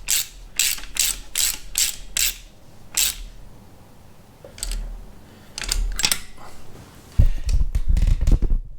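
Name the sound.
spark plug spanner ratcheting on a cylinder head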